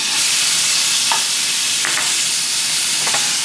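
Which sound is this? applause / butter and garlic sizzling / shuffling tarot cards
butter and garlic sizzling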